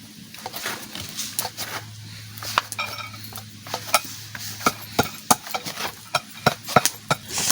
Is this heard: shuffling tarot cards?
no